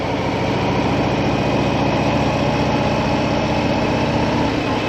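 A Harley motorcycle engine idling as it warms up on a quiet country road, a steady, loud, close rumble with even throbbing pulses held unchanged throughout, no voices over it.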